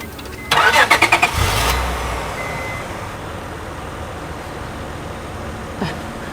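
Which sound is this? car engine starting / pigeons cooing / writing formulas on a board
car engine starting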